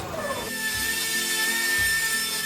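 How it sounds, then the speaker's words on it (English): Loud, steady whine of a power drill boring into a car's driver's door while aluminium strip reinforcement is being fitted, droning continuously with brief pitch dips as the bit bites, close to the source with no talking. "The drilling machine sound is giving me the heebie-jeebies."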